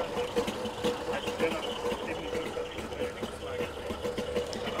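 A Wartburg 311 with a modified 1000cc engine idles steadily nearby, a rough, buzzing two-stroke burble running throughout under occasional light voices.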